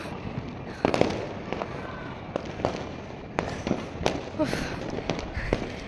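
Fireworks and firecrackers burst during RCB cricket victory celebrations, a scattered run of sharp cracks and pops, some near and some distant, over a steady rushing crowd-and-street din.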